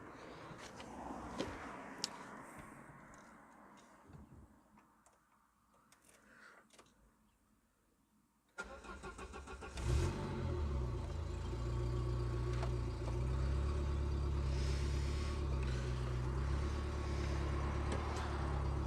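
Citroën BX car engine starting: quiet interior clicks and rustles, then the starter kicks in and the engine catches into a loud, steady idle rumble that continues to the end.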